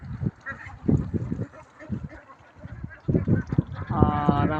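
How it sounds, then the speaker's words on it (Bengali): A flock of 1,500 ducks on a duck farm quacks and honks nearby in uneven bursts, with a voice speaking among the calls. "1500 হাঁস রয়েছে।"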